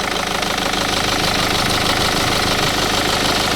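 BMW car engine idling steadily after its antifreeze was drained, a loud continuous rumble with a faint knock-like pulse throughout, close by and with no talking.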